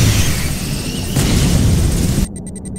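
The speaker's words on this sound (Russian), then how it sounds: "Ионное орудие активировано." Ion cannon firing in Command & Conquer 3: Tiberium Wars, a loud, dense explosive boom sustained for over two seconds, then cut to a fainter, pulsing tail.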